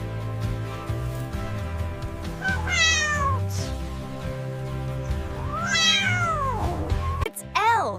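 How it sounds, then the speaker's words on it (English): A farm kitten meows several times, bright, rising and falling cries that stand out clearly over a steady low hum, with a longer drawn-out meow near the end. "It's a kitten."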